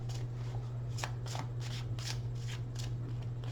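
Tarot cards shuffled in a steady run of soft, papery riffles and flutters over a low constant hum, close to the listener.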